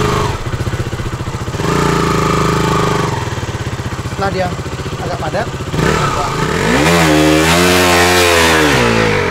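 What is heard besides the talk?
motorcycle engine revving, rocked back and forth in beach sand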